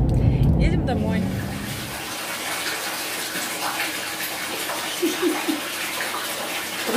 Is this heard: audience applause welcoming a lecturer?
no